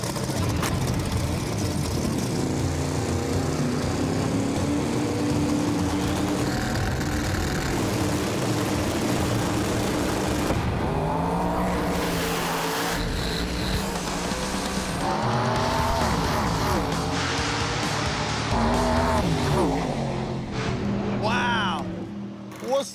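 A street-racing car revs hard with squealing tire spin, engine tones rising and falling over about twenty seconds, loud and close, while people talk at times beneath the roar.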